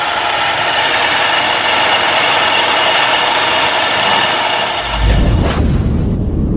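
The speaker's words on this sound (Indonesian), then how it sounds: "pas stasioner juga mesinnya kedengeran halus banget gitu" A 1998 Toyota Kijang Kapsul LGX engine idles with a steady, even drone, then a deeper rumble swells briefly near the end.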